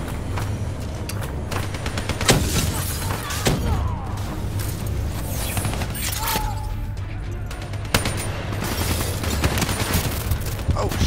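Rapid gunfire and explosions from the video game Call of Duty: Black Ops 3 during co-op play, with repeated sharp bursts over a steady low rumble and occasional louder blasts throughout.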